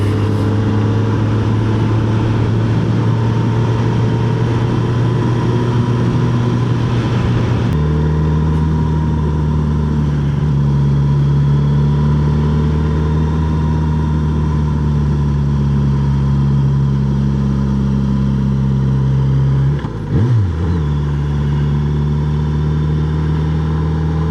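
A vehicle engine pulls steadily in first gear along a road of tight curves, a loud, sustained mid-pitched hum that shifts pitch partway through and dips briefly near the end, with no talk.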